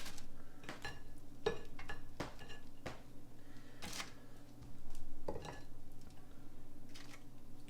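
Cooked food being moved onto a plate, with several sharp clinks and scrapes of utensils against dishware in an irregular rhythm over a steady low background hum, close and moderately loud.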